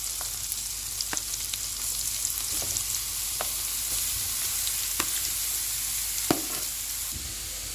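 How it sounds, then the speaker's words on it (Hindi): Onion and radish frying in butter in a pan give a steady, fairly quiet sizzle, with a few sharp stirring clicks and scrapes of a utensil over it and no voices. "अब इसमें हम सब्ज़ प्याज डालेंगे और साथ ही हम मूलियों को डाल देंगे।"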